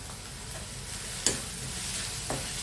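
Green chilies sautéing in a pan for biryani, a soft continuous sizzle with occasional spoon or spatula clicks against the pan, quiet and close, with no voices.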